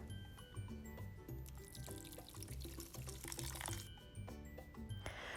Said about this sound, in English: And then you pour over just a little bit of beer.